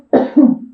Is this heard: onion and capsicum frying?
no